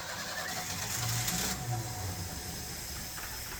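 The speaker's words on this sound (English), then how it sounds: "So now go ahead and crank it over." A 1968 Ford F100 engine with a resistive ignition lead cranks over, a steady whirring starter drone with a louder burst in the first half, then settling to an even hum.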